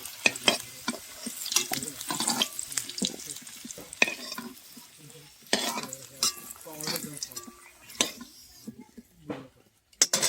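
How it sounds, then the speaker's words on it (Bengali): Cabbage fries in an oiled pan, the sizzle rising and falling as a spatula scrapes and clanks against the metal in uneven bursts, close and fairly loud. "এবার আমি কপিগুলো ভেজে নিব।"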